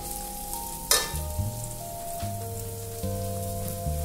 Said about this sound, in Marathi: कांदा पण छान परतून घ्यायचा आहे